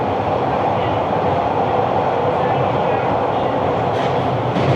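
A Toronto subway train runs between stations on the line from Kennedy toward Bloor-Yonge, a loud, continuous low rumble with steady rail noise and a faint clatter near the end.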